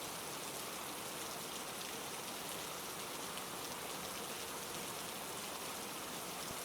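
Steady rain falls in an even, hissing wash of countless drops, constant and moderately soft throughout, with no voices or other sounds.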